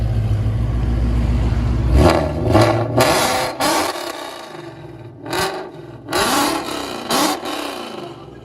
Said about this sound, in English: Put it in park and rev it again, please.